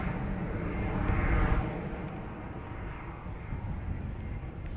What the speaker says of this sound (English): Air Transat to Toronto 321 Neo 330